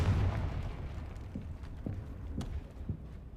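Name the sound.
Confringo explosive spell cast in video game Hogwarts Legacy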